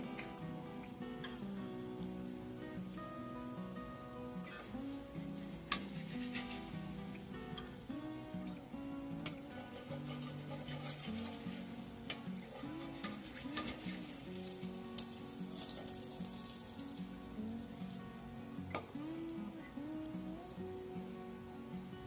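Potato pantua dough balls frying in oil on a low flame, a soft continuous bubbling sizzle with scattered crackles, faint and steady throughout with no speech.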